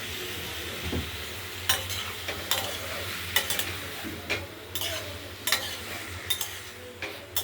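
Oil sizzles in a pan for a dish of small mourala fish with potato and onion, a steady low crackle broken by repeated scraping stirs of a spatula.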